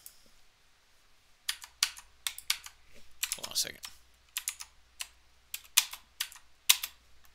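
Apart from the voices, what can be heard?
typing on a computer keyboard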